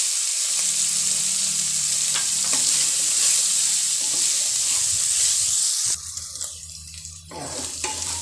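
Onion frying in oil with garlic-ginger paste for a red pumpkin bhaji, a steady close sizzle with stirring scrapes; the sizzle briefly drops and thins partway through, then picks back up.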